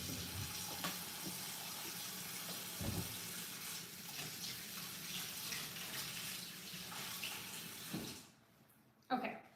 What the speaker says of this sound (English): Hold on, I gotta wash my hands.